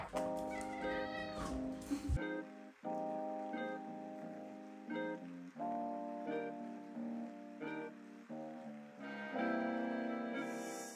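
A cat meows repeatedly in a run of drawn-out, tonal calls with short gaps between them. The calls are close and clear, and no one speaks.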